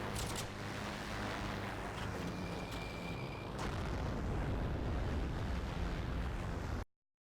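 Bombs released from an aircraft in the video game Heroes and Generals, heard as a dense, sustained rumbling roar of blasts and engine noise that fills the whole clip before cutting off abruptly.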